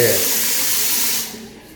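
Water rushes hard from a newly added tap as its valve is opened, a strong close hiss that runs for over a second before suddenly dropping away.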